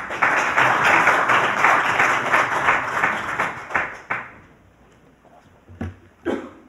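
An audience at a constitutional-reform citizens' assembly launch claps steadily to welcome a lawmaker, a dense burst of applause lasting about four seconds before tapering to a few scattered claps.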